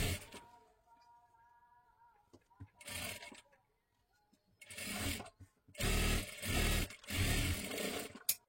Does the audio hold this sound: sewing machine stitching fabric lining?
yes